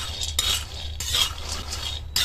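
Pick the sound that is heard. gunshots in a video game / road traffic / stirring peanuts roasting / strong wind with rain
stirring peanuts roasting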